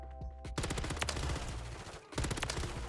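Rapid automatic bursts from a RAM 9 SMG in Call of Duty MW3, dense crackling fire in two runs split by a brief pause, close and sharp.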